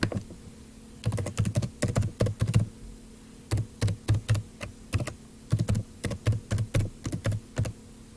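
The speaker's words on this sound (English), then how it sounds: "type in your email address." Someone types on a computer keyboard, filling in an email address, in short bursts of close, crisp key taps separated by brief pauses.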